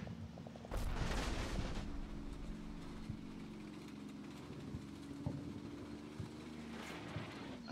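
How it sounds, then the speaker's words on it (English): Canadian artillery fire in the Combat Mission: Battle for Normandy video game, a distant low boom followed by rumbling and fainter thuds over a constant engine-like drone, fairly quiet overall. "there's Canadian artillery"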